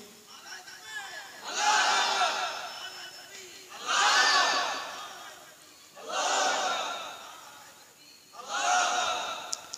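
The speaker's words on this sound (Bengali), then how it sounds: "দেন তাকবীর মারেন দেখি।" A crowd at a Bengali Islamic religious gathering chants the takbir in unison, four loud swelling shouts at roughly two-second intervals, with brief quiet gaps between each collective cry.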